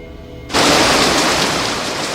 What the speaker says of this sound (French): la pluie est arrivée avant nous